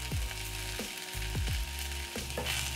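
Soft, continuous frying sizzle of onion powder, garlic powder, paprika, turmeric, cumin and cayenne cooking in a pan with a lentil mixture, fairly quiet, with a few light stirring scrapes.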